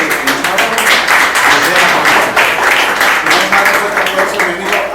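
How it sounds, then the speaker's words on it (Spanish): A conference audience gives a strong round of applause, dense, steady clapping close and loud throughout, with some voices mixed into the crowd noise. "Dense un fuerte aplauso"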